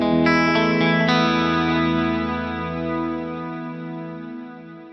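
Clean guitar chord run through a Fractal rig with multi-delay repeats, a Plex delay pad and reverb, ringing out loud and alone, a few struck notes blooming into a long shimmering wash that slowly decays over several seconds.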